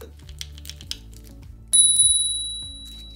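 Bell on the handlebar of an iEZway EZ6 electric scooter, preceded by faint handling clicks, then struck once with a loud, bright ring that decays slowly over about a second and a half.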